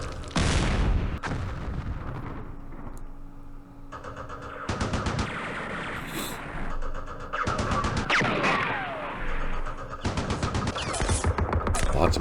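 Heavy machine gun fire and artillery bursts in a Middle East war strategy game, loud repeated rapid volleys and booms across the whole stretch, with a voice talking between them.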